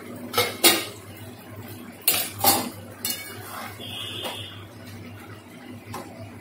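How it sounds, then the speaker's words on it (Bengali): A metal lid comes off a pot of egg curry with potatoes and brinjal, sharp clanks and clinks of cookware in a few close bursts, followed by softer scraping and a brief ringing tone, no voices. "ঢাকনাটা তুললাম।"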